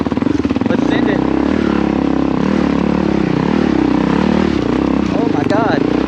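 Kawasaki KLR650 motorcycle engine labouring steadily up a big hill, a loud, close, continuous droning rumble with a voice speaking and shouting over it.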